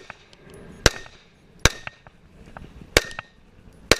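Four sharp pistol shots crack out at an IDPA defensive shooting match, spaced unevenly about a second apart, each loud and close with a brief ringing tail over faint outdoor range noise.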